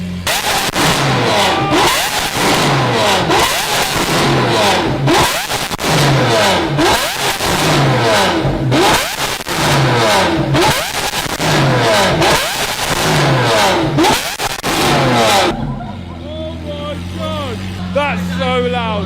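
Lamborghini SVJ with a newly installed exhaust revving hard, repeated loud snarling bursts with crackles between them, then settling into a rumbling idle, close by, with people talking over it.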